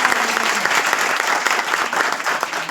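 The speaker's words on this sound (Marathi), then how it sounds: "त्यांच्यासाठी एकदा जोरदार टाळ्या" A village crowd at a panchayat programme applauds, with dense, continuous clapping held at a steady level from start to finish.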